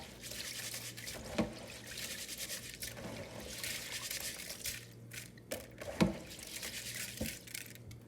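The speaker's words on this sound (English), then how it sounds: "You can put however much water you want to, but I started off with 2." Water trickling and pouring into a pot to make rice water, a steady faint liquid stream with a few louder splashes, heard alone without talk.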